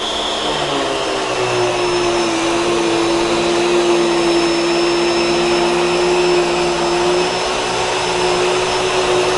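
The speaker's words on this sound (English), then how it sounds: "Wow, that's really not the loudest vacuum I've ever heard." A Bissell Pet Hair Eraser Turbo Plus upright vacuum cleaner runs steadily with a constant motor whine and airy roar, loud and close, without pauses or talking.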